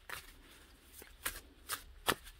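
Oracle card deck being riffle-shuffled by hand, a series of crisp papery bursts in an uneven rhythm, close and fairly quiet with no talking.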